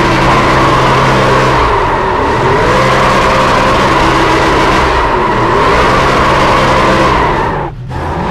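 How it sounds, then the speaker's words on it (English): A race car at an ARCA event runs loud and steady, its engine droning with tire squeal and skidding noise for several seconds, then cutting off briefly near the end. "Did you hear that burnout I just did?"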